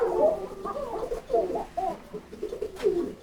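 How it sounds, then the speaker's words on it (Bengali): Pigeons at a pigeon farm coo close by, a run of soft, throaty rolling calls overlapping in uneven bursts. "চলেন এক এক করে কবুতর দেখানো হবে।"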